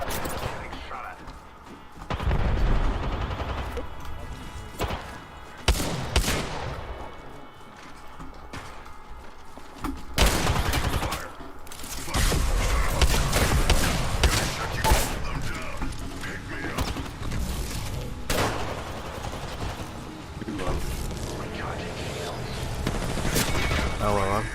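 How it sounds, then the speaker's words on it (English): Gunfire in the battle royale game Apex Legends sounds in repeated bursts and single shots among footsteps and other game noise, loud and close, spread across the whole stretch. "Getting shot at."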